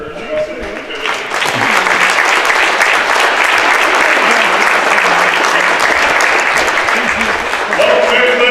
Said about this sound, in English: Would everyone please stand and give these men a big round of applause for their outstanding activity.